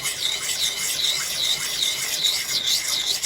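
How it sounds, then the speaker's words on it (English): An old axe blade is worked on a 600 grit sharpening stone, giving a steady, fairly quiet rhythmic scraping with repeated strokes about every half second and no speech. "Then we'll hit it with this 600 grit stone."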